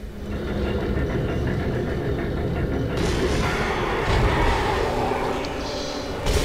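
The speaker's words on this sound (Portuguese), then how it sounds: "Conseguimos ativar o bonde." Tram rumbling along in the sci-fi horror game Dead Space, a steady heavy mechanical roar with low booming and rattling that swells midway and stays loud throughout.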